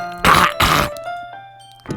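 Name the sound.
throat clearing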